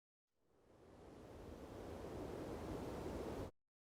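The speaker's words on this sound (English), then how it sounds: "The third one that I added is the sound of the wind. It's a light breeze that moves the small flags." A light breeze blows as a soft, even wash of wind that fades in, holds steady and faint, then cuts off abruptly.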